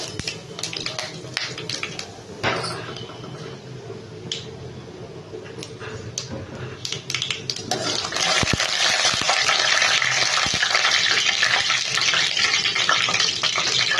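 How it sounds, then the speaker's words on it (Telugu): Mustard seeds, two or three dry Kashmiri chillies and chana dal frying in hot oil, starting with scattered pops and crackles, then swelling into a loud, steady sizzle with sharp spits. "కొంచెం ఆవాలు వేసాను రెండు మూడు ఎండుమిర్చి వేస్తున్నాను కాశ్మీరీ చిల్లి తర్వాత కొంచెం శనగపప్పు"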